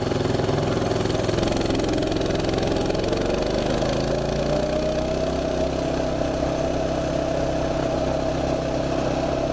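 A Mega Moto minibike engine runs steadily and loudly during a ride near top speed, its droning pitch rising slightly as it accelerates, with no talking over it.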